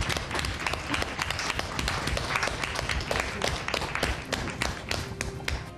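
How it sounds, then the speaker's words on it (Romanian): A studio audience on a Romanian television show applauds a woman contestant after her challenge, a dense, continuous wash of clapping with rapid overlapping hits that stays loud throughout. "Haideți să o aplaudăm"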